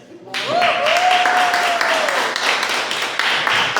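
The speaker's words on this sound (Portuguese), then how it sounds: "Então eu quero que você aplaude o Senhor pela vida da Aldeira Franciele" A church congregation claps together for a preacher, a broad steady wash of applause holding from the first half-second to the end, with a sustained tone or voice running faintly underneath.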